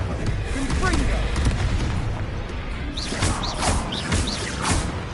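Confringo fire spells blast repeatedly during a Hogwarts Legacy battle, a series of loud booming impacts with crackling bursts over steady game music and effects, while a voice talks over the action.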